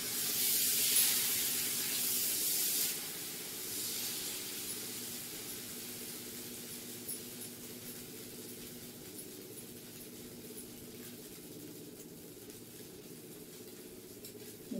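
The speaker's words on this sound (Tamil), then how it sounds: "இப்ப நம்ம தோசை ஊத்திக்கலாம்." A loud hissing sizzle rises as thin dosa batter hits a hot griddle, then settles into a steady, quieter frying hiss that continues throughout.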